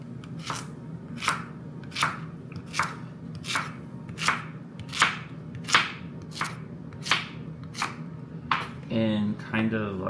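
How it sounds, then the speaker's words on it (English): A knife slices a zucchini and then quarters the slices on a cutting board, giving a steady series of about a dozen crisp, evenly spaced chops close by. A person starts talking at the very end. "So we're gonna do slices, and then we're gonna quarter the slice."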